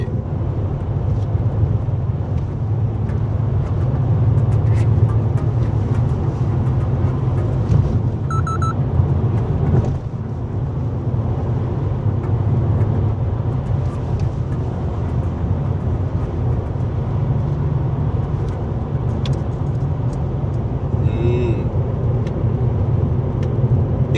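A Mercedes-AMG CLE53 with a conventional nine-speed automatic gearbox cruises along, heard from inside the cabin as a steady, full low engine and road drone. No distinct gear changes stand out.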